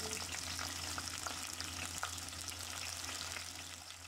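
Sliced onions dropped into hot oil in a pan, a continuous soft sizzling hiss with light crackle, fairly quiet and close, with a low steady hum underneath.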